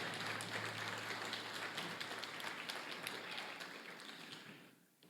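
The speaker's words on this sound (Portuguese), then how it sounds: "Vamos dar uma salva de palmas para a palavra de Deus" A sustained burst of applause from a church festival crowd, dense and even, fading out near the end.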